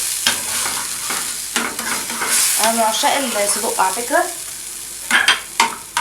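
Sausage frying in a pan for breakfast, a steady close sizzle with stirring scrapes throughout, while someone speaks Arabic over it.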